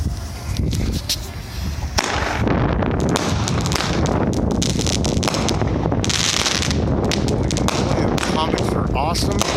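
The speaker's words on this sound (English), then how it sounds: "16 shots, doing the beautiful thing with fireworks." Purplelicious 16-shot consumer firework cake firing comets, a rapid run of loud close bursts and crackles over steady wind noise on the microphone, with excited voices speaking through it.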